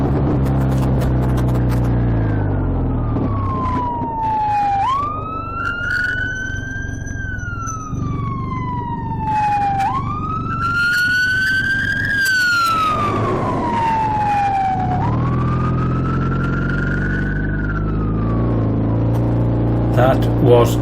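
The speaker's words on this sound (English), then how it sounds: "Must be the loudest siren I've ever heard on a fire engine coming this way." A loud fire engine siren wails up and down in long repeating sweeps, close by over traffic rumble.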